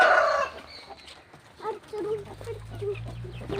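Chickens cluck nearby, with a rooster crowing in short repeated calls over a low background hum, while people talk intermittently.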